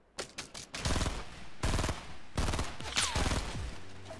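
Rapid bursts of gunfire in Fortnite Battle Royale, a series of sharp, clustered shots and volleys rattling in quick succession, loud and close, with brief pauses between flurries.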